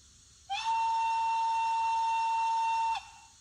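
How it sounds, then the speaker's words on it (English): A model steam locomotive's whistle sounds steadily for about two and a half seconds, clear and fairly loud, starting and stopping abruptly. "Whistle again."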